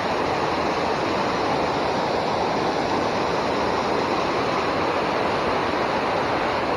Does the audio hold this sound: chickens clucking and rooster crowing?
no